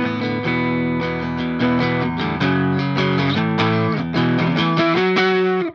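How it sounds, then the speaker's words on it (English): Distorted electric guitar strums the chord progression of a song's chorus, sustained and loud, with crunchy overdriven chords changing every half second or so. "the heavier chorus section, which are the same chords again, just with distortion on"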